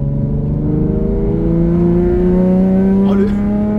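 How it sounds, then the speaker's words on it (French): A Nissan 350Z engine revs hard toward 4000–4500 rpm, a loud, steady rising drone whose pitch climbs and turns sharper near the end, heard alone and close. "le stade du bruit à 4000 tours, quand il devient beaucoup plus aigu"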